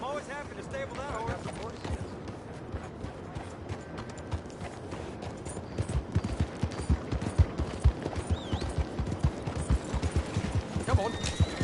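Horse hooves clip-clopping in the video game Red Dead Redemption 2, a rhythmic run of hoofbeats that grows louder and more pronounced in the second half, mixed with game sounds and occasional voices.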